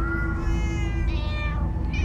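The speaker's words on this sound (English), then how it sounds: "Oh, many cats. So many cats." Many cats meow over and over in Minecraft: Story Mode, overlapping high mewing calls in a steady chorus, close and fairly loud against a low game background.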